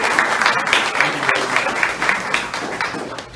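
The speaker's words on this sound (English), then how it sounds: "So please give him a round of applause." An audience at a town hall meeting breaks into loud, continuous applause, a thick wash of clapping that holds steady throughout without speech.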